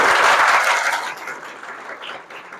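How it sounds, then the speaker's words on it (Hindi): An audience at a school academy gives loud applause for a teacher, dense clapping that starts strong and slowly fades over a couple of seconds. "मैं चाहता हूं कि सर के लिए एक बार जोरदार तालियां बजाइए आप लोग"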